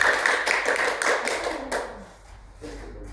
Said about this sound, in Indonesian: Berikan tepuk tangan buat Deski.